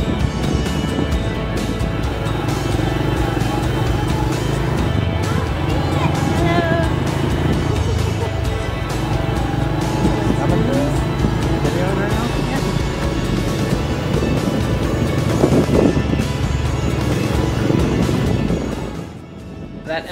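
A borrowed motorbike rides around an island in Indonesia, its engine humming steadily under heavy wind buffeting on the microphone for about twenty seconds, fading slightly near the end.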